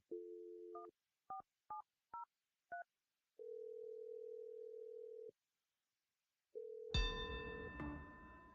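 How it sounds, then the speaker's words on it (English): A phone line plays a steady dial tone, then six short touch-tone beeps in quick succession and a long tone. After a pause the tone returns and a brief burst of noise cuts in near the end, with no voices. "I'm dialing her number right now."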